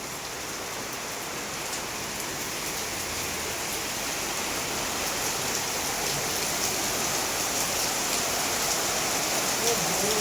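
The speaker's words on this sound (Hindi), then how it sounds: "जोरदार है, तेज है एकदम बारिश।" Steady, heavy rainfall pours down continuously in a dense wash of hiss, loud and even throughout, with no voices.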